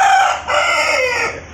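A chicken crows once, loud and close, a strained drawn-out call held for over a second in a small rain-soaked aviary.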